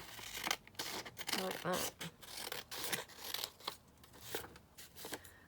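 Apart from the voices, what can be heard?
scissors trimming lace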